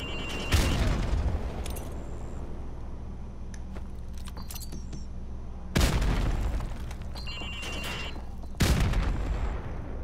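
Grenade blasts in Call of Duty: Modern Warfare Remastered, three heavy booming explosions spaced a few seconds apart, each a sharp loud onset with rumbling decay, over a low game ambience with faint metallic clinks.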